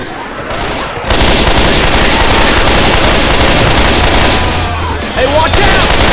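Loud, relentless gunfire in a modded Left 4 Dead 2 city survival map, dense automatic bursts running nearly nonstop with players shouting over the shooting.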